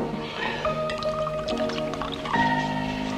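Drink being poured into a glass with a gurgling, bubbling trickle that shifts in pitch as it fills, close and moderately loud, with no talk over it.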